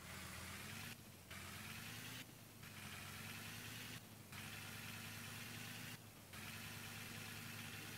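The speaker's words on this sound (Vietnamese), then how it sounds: "Mình sẽ chạy xe lu đi." A road roller's engine idles steadily in a video game, a low droning hum with a regular, periodic pulse and faint, brief dips about every second, with no talking.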